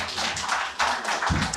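Audience applause at a book talk, a short burst of clapping from a seated crowd that swells and stays steady, with a deeper thump near the end.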